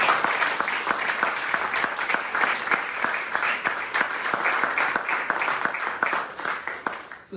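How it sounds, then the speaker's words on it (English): An audience at an inter-secondary school debating competition breaks into sustained applause, a dense run of many hands clapping at an even level for several seconds before easing slightly at the end. "Please give all the debaters a big round of applause."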